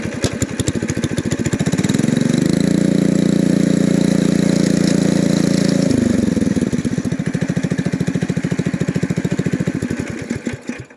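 A Coleman BT200X mini bike's small single-cylinder engine rattles at idle, revs up to a loud steady drone for a few seconds, then drops back to a rapid putter before shutting down, close to the microphone.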